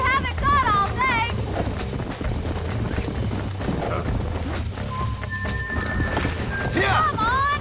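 Rapid rhythmic hoofbeats of a horse galloping in the Red Dead Redemption video game, steady and prominent throughout, with whinnies and voices talking over the game sound.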